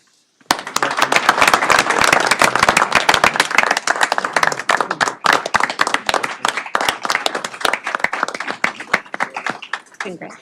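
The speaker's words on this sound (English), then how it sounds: "I present everybody, a round of applause to Sergeant Sutton" An audience at a board of trustees meeting applauds, a loud burst of many hands clapping that starts abruptly and continues for about ten seconds, thinning toward the end, with voices faintly underneath.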